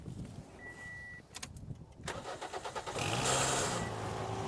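A car that has sat unused for months with a dead battery cranks briefly through a JFEGWO 6000A jump pack, then catches and fires up, settling into a loud, steady idle close by.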